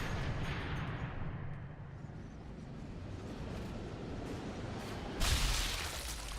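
A sniper rifle fires in Sniper Elite 3 at the Ratte Factory, one sudden loud blast near the end. Before it comes a long, low, rumbling wash of background noise from the level, and no one speaks.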